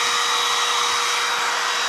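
A cordless 18-volt router with a 1/4 inch radius bearing bit runs with a loud, steady high-pitched whine, continuous and alone without voices.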